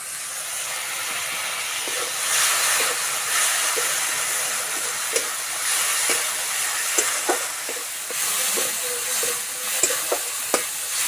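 Ground spice paste sizzles and spits loudly in a pan once a little water goes in, with steady frying hiss, stirring scrapes and a few sharp pops throughout, no voice.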